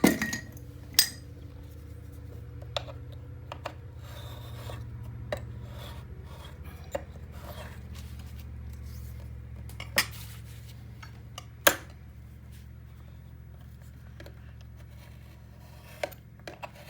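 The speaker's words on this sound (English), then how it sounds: "Now I'm going to miter my corners." A miter tool trimming the corners of a paper 8x8 album, sharp isolated clicks and snips spaced irregularly over quiet rasping handling noise, close and fairly faint.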